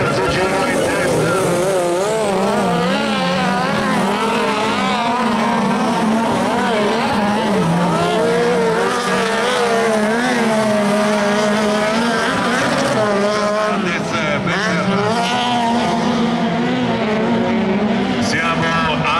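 Cross cars racing in an FIA European Autocross Championship round at Maggiora, engines screaming continuously as they rise and fall through gear changes, loud and close, with a commentator talking over them.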